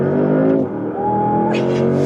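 A Porsche Panamera accelerating from inside the cabin, a smooth engine tone rising in pitch with a short shift mid-way, loud and close, with no speech.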